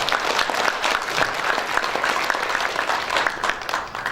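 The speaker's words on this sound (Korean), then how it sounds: "큰 박수로." An indoor audience at a Korean press association awards ceremony claps together in sustained, dense applause for several seconds, loud and close, with no talk over it.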